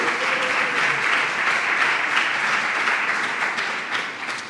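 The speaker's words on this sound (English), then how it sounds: "Give him a round of applause right there." A conference audience claps for the organizer, a steady round of many hands that holds level before tapering off slightly toward the end.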